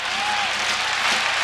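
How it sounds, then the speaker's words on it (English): A large stadium crowd at a 1996 West Virginia vs. Pitt college football game roars and cheers for Pitt, a dense, loud, continuous wash of voices and applause with no break. "the crowd right now is beginning to cheer for Pitt because they want to see him go for it"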